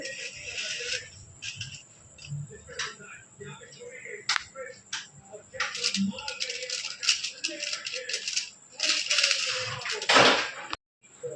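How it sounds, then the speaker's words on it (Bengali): Ice cream sticks slotted one by one into a foil-covered mold filled with raw mango pulp, making a series of light clicks, taps and rattles at uneven intervals, close and fairly quiet, with a voice talking over them. "আমি স্টিকগুলো ভরে দিচ্ছি এক এক করে।"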